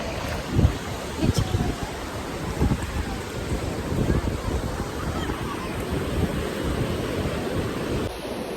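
Ocean waves wash onto a beach in a steady, loud roar with periodic surges of surf, and voices faintly underneath.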